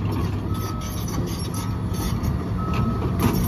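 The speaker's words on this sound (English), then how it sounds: "Hear the travel alarm going there." A Cat 315C L excavator's travel alarm sounds in repeated beeps over a steady low engine rumble, fairly close and continuous.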